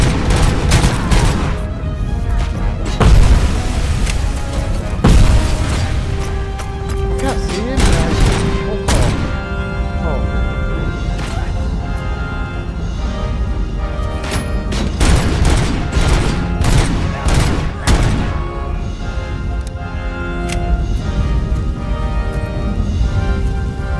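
Grenade blasts and dense gunfire in Robocop Rogue City: a steady, loud barrage of shots, thuds and crashing debris runs throughout, with sharp explosive hits punctuating the constant fire.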